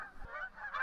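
Brief honking of geese over a field during a mixed duck and goose hunt, a few nasal calls close together.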